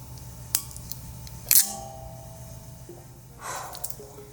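Protective plastic film peeled off a SuperNOVA 1600-watt computer power supply, giving a few short, close crackling rips with a longer soft tearing stretch near the end, in a quiet room.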